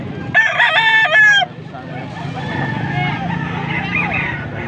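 A young gamecock stag crows once, loud and close, its call breaking off after about a second, followed by a murmur of people talking nearby and faint background noise.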